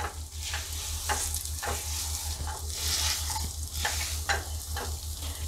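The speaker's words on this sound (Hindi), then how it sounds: "इसे आपको पूरी तरह से अच्छे से मैश करना है ताकि कुछ गुठलियाँ ना बचे" A potato and spice mixture is mashed with a potato masher in a pan over a gas flame, giving repeated soft squelching presses over a low steady sizzle.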